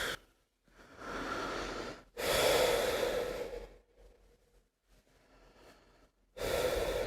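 Slow, deep breaths during a sophrology relaxation exercise, several long airy inhales and exhales with short quiet gaps, close and fairly loud with no talking.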